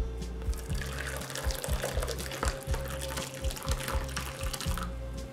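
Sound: curdled milk poured through cotton cloth to strain paneer

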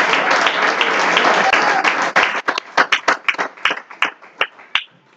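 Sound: congregation clapping hands

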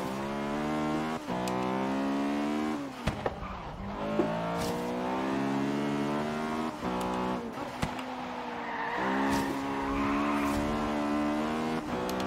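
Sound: Acura Integra Type R racing in video game Forza Horizon 3

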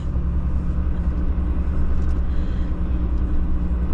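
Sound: car passing on a country road

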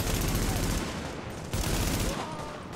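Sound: gunshots in the video game Tom Clancy's The Division

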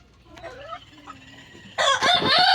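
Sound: rooster crowing

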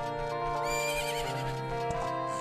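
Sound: horse neighing in video game Majora's Mask

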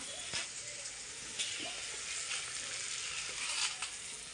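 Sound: bay leaf sizzling in hot oil for tempering rice

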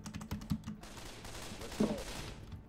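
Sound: AK rifle gunfire in video game Left 4 Dead 2

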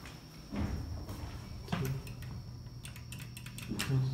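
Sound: Otis hydraulic elevator counterweight door

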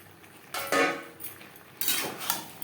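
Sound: fried potatoes and pointed gourd added to spiced pan

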